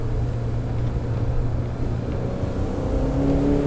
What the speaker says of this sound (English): It's not a big engine, only 2 liters, but it does make a decent amount of power and a great noise.